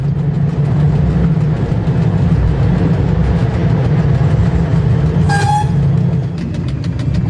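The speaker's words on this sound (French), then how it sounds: "Rachid a freiné pour aborder la petite gare de Msada, perdue dans la plaine." A diesel train slows as it approaches a small rural station on the Morocco line, with a loud steady rumble of wheels and engine and brief horn-like tones near the end.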